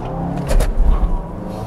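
A Volvo V60 D4 diesel car accelerates hard toward 100 km/h, its engine note rising with a brief surge of intake and road roar, heard from inside the cabin, close and loud.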